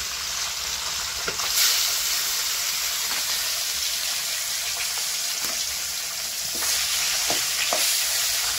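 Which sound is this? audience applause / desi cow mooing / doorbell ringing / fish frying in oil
fish frying in oil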